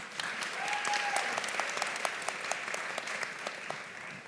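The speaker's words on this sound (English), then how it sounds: "So let's give her a round of applause." An audience at a public event in Atlanta applauds steadily for several seconds, a dense, sustained wash of clapping with some sharper individual claps standing out, and no talk over it.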